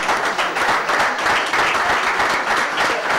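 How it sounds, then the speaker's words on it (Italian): A crowd in an Italian studio or hall applauds loudly and steadily for a young gymnastics club's girls, a dense, continuous roar of clapping close by. "Facciamogli un applauso forte"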